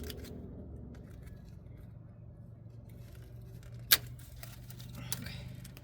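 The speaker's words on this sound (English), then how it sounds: "So I'm gonna cut all these zip ties." Zip ties on a Kenworth DEF hose, whose fitting was broken by road debris, are cut with one sharp, close snip midway. A fainter second snip follows over a steady low background hum.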